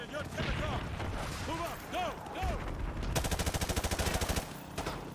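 Automatic gunfire in the Modern Warfare 2 Gulag mission on PS4, a rapid machine-gun burst of evenly spaced loud shots after scattered battle noise, with people talking and shouting over it.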